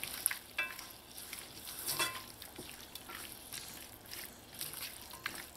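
Tomatoes and onions cook in a pan with a little salt for butter chicken sauce, a gentle continuous sizzle with occasional soft stirring scrapes, close and fairly quiet.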